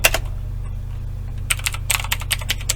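Typing on a computer keyboard, a few keystrokes at first and then a quick cluster of close, clicky taps toward the end over a steady background hum.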